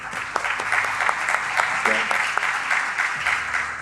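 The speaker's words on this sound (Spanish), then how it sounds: "dándoles un fuerte aplauso." Sustained audience applause at a financial-sector digital transformation panel event, dense and steady clapping from a crowd filling the whole clip, with some faint voices mixed underneath.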